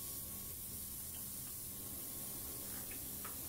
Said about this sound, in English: I'm going to heat the rivet with a gas torch